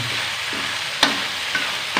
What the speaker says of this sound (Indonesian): Goreng sampai matang ya, Pak?